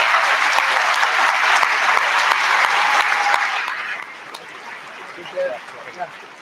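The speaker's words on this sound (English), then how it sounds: "Let's have one more round of applause for this." Loud, dense applause from an audience at a senior honors night, steady for about four seconds before fading into scattered claps and quieter room noise.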